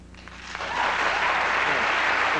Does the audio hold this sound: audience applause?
yes